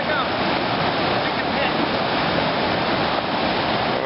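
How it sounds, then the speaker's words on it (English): Creek water at Havasupai rushes steadily past a big log moved to block its flow, a loud, even, unbroken wash of flowing water heard close up for the whole stretch. "They're blocking the water flow there."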